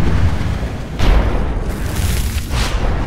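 A grenade goes off in a PUBG Mobile match, a loud deep boom with a rumbling tail, followed by further heavy blasts around one and two and a half seconds, dense and close with no talk.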